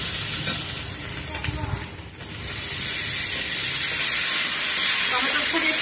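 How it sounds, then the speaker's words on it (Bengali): Chopped tomato dropped into a hot pan of frying masala for rui kabab, a soft stir and thump followed by loud, steady sizzling and hissing close by. "এবার দিয়ে দিচ্ছি এখানে টমেটো কুচি।"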